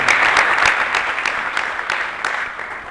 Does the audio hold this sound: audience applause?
yes